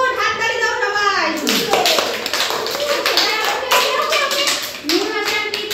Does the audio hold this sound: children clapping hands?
yes